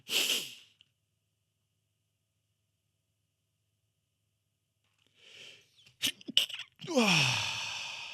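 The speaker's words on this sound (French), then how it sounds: "Attendez, je vais éternuer." A single sharp sneeze up front, then silence, followed by a few quick breaths and a second noisy, breathy burst near the end.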